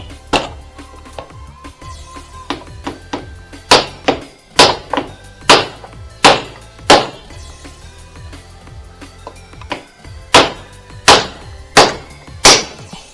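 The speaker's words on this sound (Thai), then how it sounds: "ถ้าเป็นผม ผมจะเลือกใช้ไม้หรืออะไรรองแล้วก็ตอกข้างบนนะครับ" A hammer drives a steering-head bearing cup into a motorcycle frame through a wooden block, giving a series of sharp, close thuds in uneven bursts with short pauses between them.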